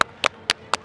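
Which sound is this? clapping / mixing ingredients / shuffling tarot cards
clapping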